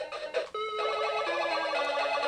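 An electronic melody ringtone from a Rus Sonata 28 telephone, loud and close, stepping through a simple tune of sustained buzzy tones with no voices.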